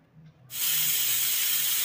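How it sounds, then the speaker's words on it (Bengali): A pressure cooker cooking chicken lets off steam: after a brief quiet moment a sudden loud, steady hiss bursts out and holds without pause, close by and with no talking. "চিকেনে 2টো সিটি মেরে নিচ্ছি আমি।"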